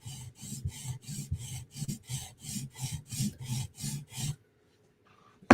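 Steady back-and-forth strokes of a Chris Reeve Umnumzaan tanto knife being sharpened flat toward a mirror edge, a dozen close rasping passes in an even rhythm, then a quiet pause and a brief clack at the end.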